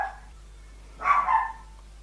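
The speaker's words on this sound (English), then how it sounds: "It's not a makeup tutorial without Zeus barking in the back." A dog barks in the background during a makeup session, one short double bark burst after a quiet stretch, moderately loud and alone without talk.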